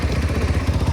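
A motorcycle engine on an off-road ride from Khandbari to Malta Park throbs close and loud with a fast, even low pulse.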